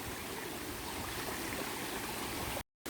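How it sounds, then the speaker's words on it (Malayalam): Water from the stream below Poomala dam flows in a steady, dense rush that holds constant throughout, then drops out abruptly near the end. "ഇവിടുന്നാണ് വെള്ളം അങ്ങോട്ട് ഒഴുകുന്നത്."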